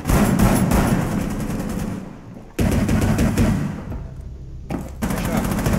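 Dense automatic gunfire in Rainbow Six Siege on the Kafe Dostoyevsky map, loud sustained bursts broken by a couple of short pauses, with a voice talking over part of it.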